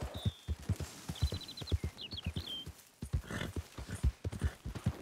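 Horse hooves clip-clop at an even walking rhythm while riding in Red Dead Redemption 2 in the early morning, with bird chirps above and a brief dip in the steps midway.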